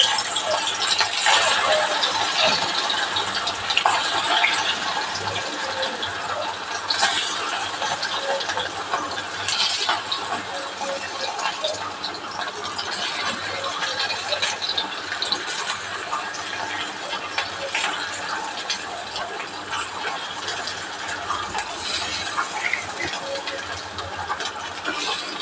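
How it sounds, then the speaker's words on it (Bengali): Egg pieces frying in hot oil in a pan, a steady dense sizzle and crackle running continuously throughout at moderate, even loudness, with no talking. "এবার আমি এগুলো ভেজে নেব।"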